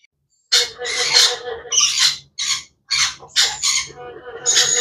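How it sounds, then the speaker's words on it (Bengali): A young Red Eastern Rosella gives loud, close, harsh squawking calls in short bursts with brief gaps between them, and no talk is heard. "এই সেই রোজেলা পাখির বাচ্চা এটা হচ্ছে গিয়া রেড স্টান রোজেলা"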